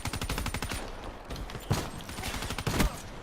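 Distant Argus shotgun fire in Call of Duty Black Ops III, with rapid bursts of gunfire and a few heavier booming shots layered through a busy game soundscape.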